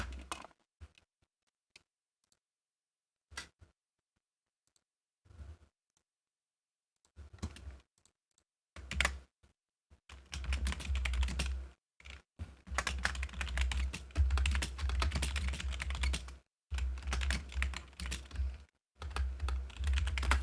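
Fingers type on a computer keyboard in bursts, sparse isolated key taps at first, then dense rapid clattering runs broken by short pauses, close and clear with no talking.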